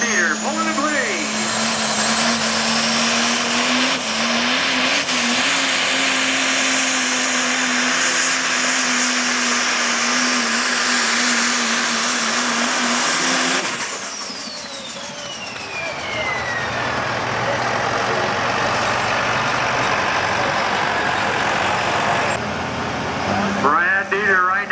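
A Superstock Diesel class truck pulls a sled at an NHRDA sled pulling national championship event, its engine a loud sustained roar with a rising whine, then cutting away to quieter crowd and arena noise as an announcer talks over it.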